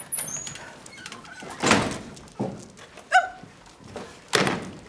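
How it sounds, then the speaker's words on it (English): Doors bang shut during a live stage performance of the farce Noises Off, several sharp thuds and slams spaced a few seconds apart in a theatre, with faint scraping between them. "Nothing but flapping doors in this house."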